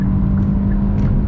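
Steady engine drone of a 2023 Kia Forte LXS cruising on a freeway, a smooth low hum with road rumble underneath, continuous and fairly loud from inside the cabin with no one talking.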